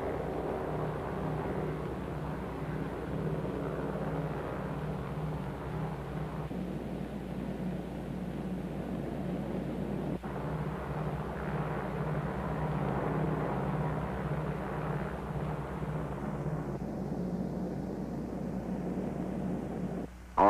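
Steady drone of several propeller aircraft engines in flight, including the B-29 bomber Dave's Dream with its escort of photographic, weather and instrument planes heading toward the Bikini target, a continuous low hum with no voices.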